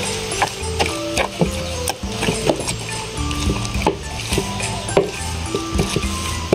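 Chili paste for a Lao-style nam prik of sour eggplant and pla ra (fermented fish sauce) being pounded in a mortar: a steady run of close, dull knocks and clacks, several each second, with no talk.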